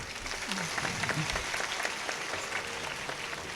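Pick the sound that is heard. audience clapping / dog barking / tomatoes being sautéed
audience clapping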